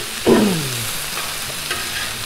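Food browning in a hot pan alongside a small steak, a steady close sizzle opening with a brief clatter and tonal scrape of a utensil, then settling into even frying with no talk.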